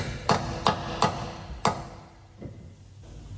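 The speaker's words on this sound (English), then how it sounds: "So just give that a nice tap into there." A hammer taps a part on the front brake of a Ford Transit Custom during a disc and pad replacement: four sharp metallic taps at an uneven pace, close and clear, then a softer knock.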